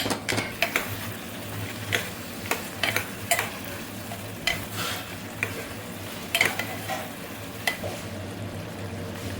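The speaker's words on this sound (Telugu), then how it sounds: "కలుపుతాను బాగా కలుపుతాను" A spoon stirs bitter gourd curry in a pot, producing repeated clinks and scrapes against the metal over a low, steady sizzle, close and without talk.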